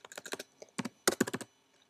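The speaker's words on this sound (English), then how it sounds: "So under here, you want to type in the following code." Rapid keystrokes on a computer keyboard while code is entered, coming in two close, distinct bursts of crisp clicks separated by a short pause, with no talking.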